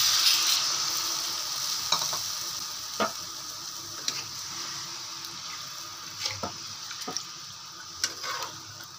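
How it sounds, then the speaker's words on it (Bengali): Rice and lentils fried in ghee and oil sizzle steadily after water is poured in, with intermittent stirring clicks and scrapes close by and no voices. "জলটা দিয়ে দিলাম।"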